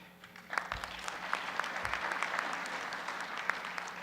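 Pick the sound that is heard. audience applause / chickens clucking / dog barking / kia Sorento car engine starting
audience applause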